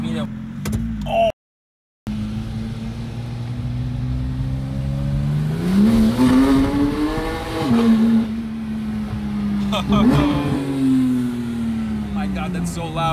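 A Porsche 911 GT3 engine idling loudly close by, then revving twice with rising and falling pitch, a harsh exhaust note that dominates, with people talking over it.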